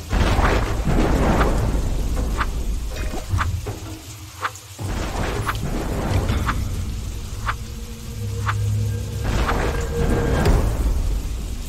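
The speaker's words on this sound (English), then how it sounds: "at that moment, it starts to rain" Rain and rolling thunder in a storm beside a dark cave entrance, a steady wash of rainfall with several sharp cracks and low rumbles spread through, fairly loud and without voices.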